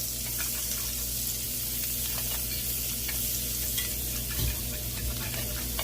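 Garlic Parmesan butter melting and sizzling in a pan: a steady, dense frying hiss with faint crackles, close and even, over a low background hum with no voices.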